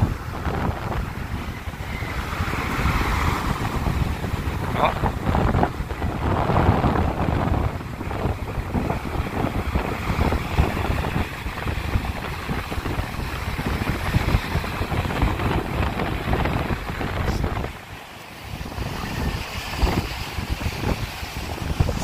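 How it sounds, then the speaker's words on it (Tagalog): Sea waves and gusting wind on a small boat in rough water after a storm, a steady loud roar of surf and wind buffeting the microphone, with one brief exclamation. "ganito talaga sa amin pag nalayo ang bagyo, saka nagkakaalon"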